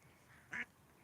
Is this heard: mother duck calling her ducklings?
yes